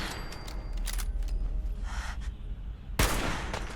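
Gunfire during a fight with raiders in Fallout 4, heard as a steady rumbling battle din with muffled shots, then one sharp, loud report near the end.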